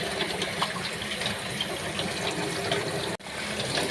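Meat being washed under a running kitchen tap, a steady close rush of water splashing into a sink, cut off briefly near the end, no talking.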